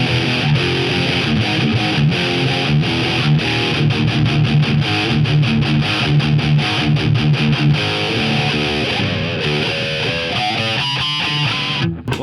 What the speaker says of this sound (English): better mid crunch out of this tube